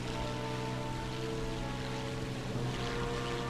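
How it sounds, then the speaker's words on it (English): A steady, droning helicopter engine hums continuously at moderate volume in the video game War Thunder, with a low rotor throb and broad rushing noise throughout. "I hear a helicopter."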